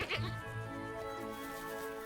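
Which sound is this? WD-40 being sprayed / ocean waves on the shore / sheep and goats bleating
sheep and goats bleating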